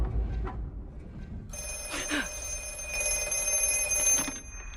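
A telephone rings with a bright, trilling bell in short bursts, fairly close, over a low background rumble.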